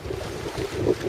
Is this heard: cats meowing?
no